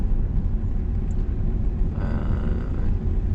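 Car in second gear accelerating gently during a driving lesson, a steady low engine rumble that rises slightly and holds throughout, close and continuous with no talking.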